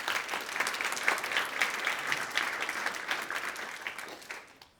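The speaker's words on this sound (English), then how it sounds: "can we give them another huge round of applause?" Applause from a conference audience for a software company's product engineering and design teams, dense clapping that holds steady and then tapers off toward the end, with no voices.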